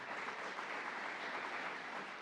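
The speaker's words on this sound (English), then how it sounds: "a round of applause." An audience at a Rochester Boys and Girls Club event gives a round of applause, steady and fairly distant, with no other sound over it.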